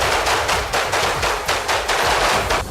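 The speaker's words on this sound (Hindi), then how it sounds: "दोनों देशों के सैनिक एक के बाद एक ताबड़तोड़ फायरिंग करते दिखाई दिए" Rapid bursts of machine gun fire from soldiers during a joint military exercise, loud and close, with repeated volleys in a steady stuttering rhythm and no talk.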